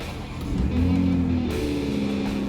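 A 2021 Toyota Supra engine turns over and settles into a steady low idle with a slight rise in revs, fairly close and without voices.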